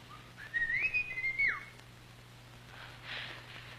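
A man whistles a short melodic phrase somewhere outside a house in a 1954 Mexican drama, a clear rising and falling tune lasting about a second, followed by a fainter whistled note amid low hum.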